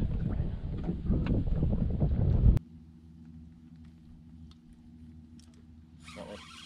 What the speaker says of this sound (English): wind's picking up, boys